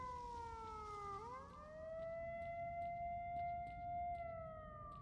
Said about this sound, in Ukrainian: Боже, де тут ця кнопка, щоб вимкнути цю сирену?